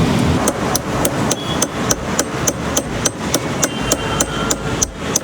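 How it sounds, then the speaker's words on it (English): A hammer strikes a broken bicycle in a steady rhythm of sharp metallic blows, about three per second, loud and close over a constant noisy background, with no talking. "So he has got the hammer."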